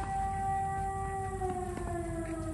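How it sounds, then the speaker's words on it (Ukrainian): An air raid siren wails loudly and steadily at a tennis court in Ukraine, a sustained droning tone that fills the whole stretch with no voices over it. "Тут ще такий гучний сирена."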